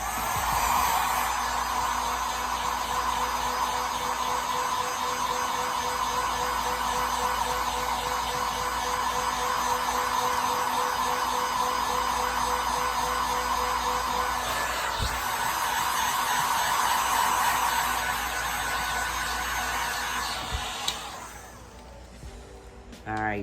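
A heat tool blows steadily on an alcohol ink design on a plain coffee mug, a continuous close whooshing hum that runs unbroken for about twenty seconds before cutting off, with a voice talking over it.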